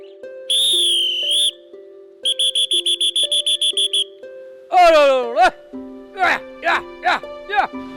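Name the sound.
whistle calling livestock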